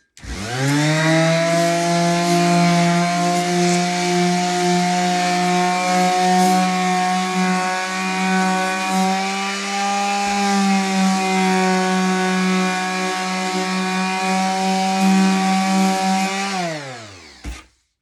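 A power sander runs steadily with a loud, droning motor whine for nearly the whole stretch, then winds down abruptly at the end.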